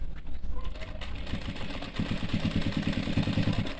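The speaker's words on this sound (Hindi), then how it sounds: "इस तरीके से सिलाई लगा देंगे।" Sewing machine stitching the belt loops of skin-tight men's pants, a steady close mechanical whir with rapid rhythmic needle ticks that strengthen in the second half.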